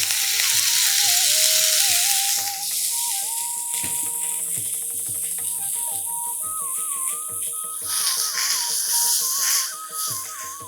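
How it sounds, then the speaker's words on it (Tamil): Chopped spinach (palak) sautés in a pan with a continuous moderate sizzle. Scattered stirring rattles sound over it, and a melodic music track plays in the background. "பாலக்கீரை வதங்கட்டும்"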